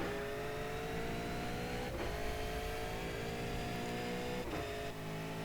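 A V8 race car at Bathurst in iRacing drones at steady high engine pitch, holding a continuous loud tone with two brief dips as it changes gear.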